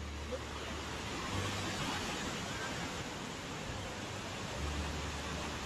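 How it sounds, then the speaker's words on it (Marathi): Jonha Falls near Ranchi gives off a dense, constant roar of falling water and spray, close and unbroken, with no voices over it. "Welcome to zona waterfall."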